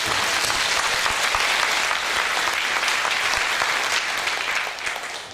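A church congregation claps continuously in sustained applause, dense and even throughout, tapering slightly near the end.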